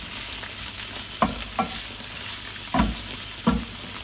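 Bok choy and carrot stir-fry in a pan with a continuous sizzle, broken by four or five distinct scraping stirs of the spatula, close and clear, with no talking.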